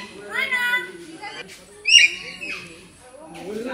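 A myna at the Rasik Beel mini zoo in Dooars gives a few squawking, whistling calls in short bursts, fairly close, with faint voices around it.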